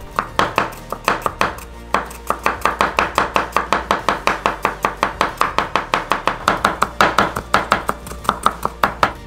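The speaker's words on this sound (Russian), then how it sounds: "Имбирь нарезаем очень мелко." A knife chops ginger very finely on a cutting board, giving a fast, even run of sharp close-up taps that slows briefly and then picks up again.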